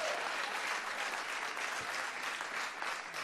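Steady, dense applause from a comedy club audience at a stand-up show, a continuous wash of many hands clapping at an even level throughout, with no voices rising above it.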